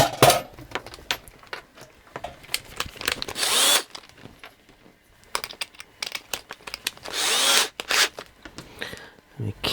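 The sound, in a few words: power drill drilling out a rivet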